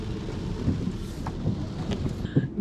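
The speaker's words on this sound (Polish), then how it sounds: "no i znowu zaczęło grzmieć" Thunder rolls as a low, continuous rumble through a cold spell on a Carpathian mountain road in Romania, steady and moderately loud with a slight swell near the end.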